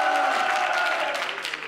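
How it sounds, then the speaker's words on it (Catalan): A concert crowd cheers and claps for a singer-songwriter in Gavà: a loud sustained collective shout at the start, with scattered hand claps coming through as the shouting fades. "Va bé picar de mans, també, a part de cridar amb la boca."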